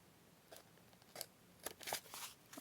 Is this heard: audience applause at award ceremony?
no